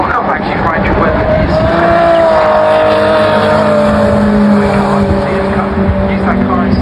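Race cars at Brands Hatch during an Equipe race weekend sweep through Graham Hill Bend, a loud continuous engine drone with a pitch sweeping upward then settling, close and steady, with commentary talking over it.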